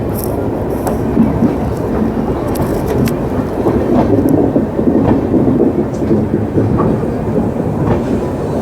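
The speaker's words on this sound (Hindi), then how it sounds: "आनंद विहार से भागलपुर की ओर जा रही है विक्रमशिला एक्सप्रेस।" Vikramshila Express train running from Anand Vihar toward Bhagalpur, a loud close rumble with rhythmic clickety-clack of wheels over rail joints, continuous and heavy throughout.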